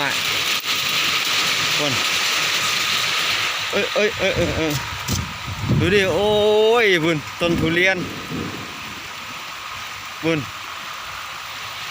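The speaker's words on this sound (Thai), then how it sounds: "ฝนแรง พี่น้อง ความฝนมันแรงโอ้โหลมพายุดูดิ" Heavy rain pours in a loud, unbroken hiss as a storm wind blows in February, while someone talks over it throughout.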